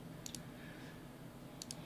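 Computer mouse clicks during video timeline editing, two quick double clicks, one near the start and one near the end, faint and close over a low room hum.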